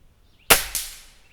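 A Gamo Swarm DX .22 air rifle fires at a rabbit about 32 yards away: one sharp, crisp crack, followed a quarter second later by a second, softer snap of the impact, in a quiet outdoor setting.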